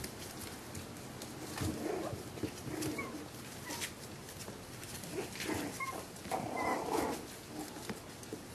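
Jack Russell puppies whimpering and yipping in short, soft bursts as they play with their father, the cries light and scattered over a steady background hiss.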